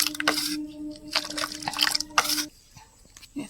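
Thickened cow's milk poured out for setting curd, with several close bursts of liquid splashing and trickling separated by pauses, over a faint steady hum.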